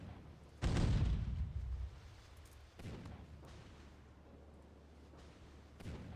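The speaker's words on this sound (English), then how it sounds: "The torpedo launch sound is almost like a grenade launcher." A torpedo launching in the NavalArt naval combat game lands as one loud, booming thump like a grenade launcher, fading over about a second, followed by two fainter thuds later amid a steady low background rumble.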